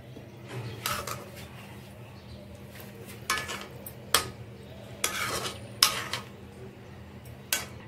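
A spoon of ghee goes into a nearly finished vegetarian mince kofta curry, with sharp metal spoon clinks and scrapes against the pan over a low, steady sizzle, several separate knocks spread through the moment.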